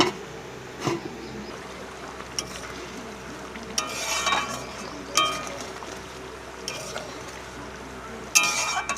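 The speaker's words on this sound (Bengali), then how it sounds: "এবার ঢেকে দেবো।" A lid goes onto a cooking pan of fish curry, giving several short metallic clinks and clatters at close range over a low, steady simmering hiss.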